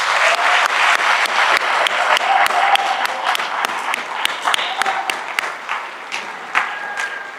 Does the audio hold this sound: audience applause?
yes